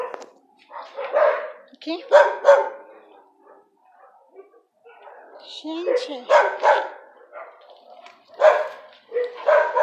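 A dog barks in short repeated bursts at a home gate, mixed with a person talking nearby.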